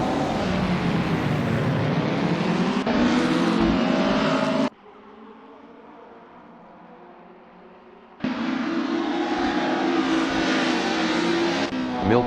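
Skoda 130 RS race cars at the start of a racing game event at Knutstorp: loud, steady engine roar with shifting revs, a sudden cut to a quiet muffled hum, then the full engine noise returns.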